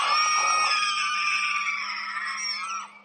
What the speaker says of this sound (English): She does an almost T-Rex-like shriek.